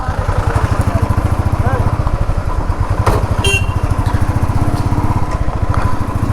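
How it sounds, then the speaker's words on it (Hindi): A motorcycle engine runs with a loose silencer bolt, giving extra exhaust noise: a loud, close, rapid chugging pulse with rattly clatter, holding steady throughout. "जिसकी वजह से एक्स्ट्रा साइलेंसर आवाज़ कर रहा है"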